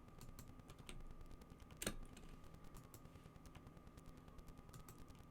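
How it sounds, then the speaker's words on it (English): Rapid keystrokes on a computer keyboard, a steady stream of small clicks at moderate distance with a louder burst partway through, over a faint continuous hum. "Are you writing? Are you typing?"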